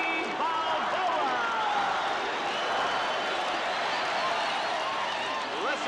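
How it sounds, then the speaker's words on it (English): A packed arena crowd at a heavyweight championship boxing match roars and cheers continuously, a dense and loud wall of noise with a voice faintly audible beneath it. "Listen to this crowd."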